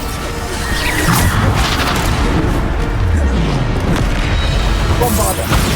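Bombarda spell explosions from Hogwarts Legacy ring out in a loud, dense battle, with repeated heavy booms and crashes layered over constant combat noise and game music.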